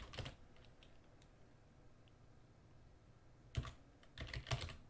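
Keys clack on a computer keyboard while code is typed into Visual Studio for a Unity game project: a short burst of keystrokes, a quiet gap, then two more quick clusters of close, crisp taps.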